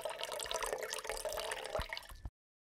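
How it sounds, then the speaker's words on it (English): Water pours steadily into a container set on a scale, a faint, close trickle with small drips that stops abruptly near the end. "We're gonna grab a scale and we're gonna weigh some water."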